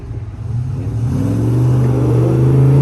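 A Ford Mustang engine revs up loudly and steadily at an autocross event, its deep tone rising and holding strong close by.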